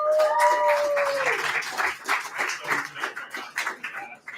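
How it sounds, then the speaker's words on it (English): An audience claps for the staff at a Wednesday trivia party night, the applause loud at first and then tapering into scattered claps, with a whistle and a dog barking near the start. "how about a round of applause for your staff"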